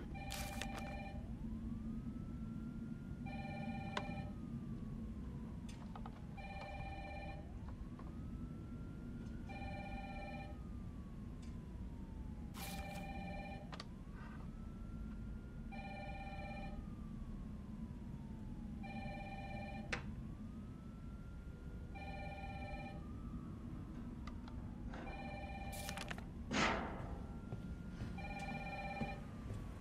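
A telephone in Resident Evil 3 rings in a regular pattern of repeated double trills, moderately loud over a low ambient rumble and a rising-falling tonal drone, with a brief sharp clatter near the end and no talking.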